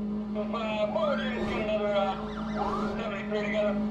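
Police car siren in the Need for Speed World racing game, a loud wailing rise-and-fall that sweeps up and down twice, with engine hum beneath and someone talking over it.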